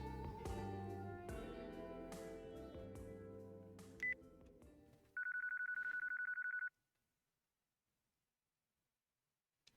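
A mobile phone call in Yakuza 4 sounds as a short burst of dialing tones and then one loud, steady electronic ring that lasts over a second before cutting to near silence, with game music fading out beforehand.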